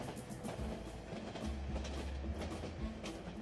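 Train running in the video game 3 Minutes to Midnight, a continuous rumbling rattle with rhythmic clickety-clack pulses and low heavy thuds, moderately loud and without speech.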